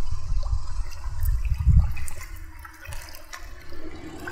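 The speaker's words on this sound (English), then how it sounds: "just put our hands in the water here for a moment" Hands swish and splash in flowing river water close by, a steady churning wash of low, rushing water with a few brief, brighter splashes, heaviest near the middle, then easing into a softer gurgle, with no voices.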